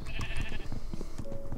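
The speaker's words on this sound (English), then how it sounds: "There's a black sheep" A sheep in Minecraft bleats in quick, slightly wavering cries over a short stretch, close and clear with no talk.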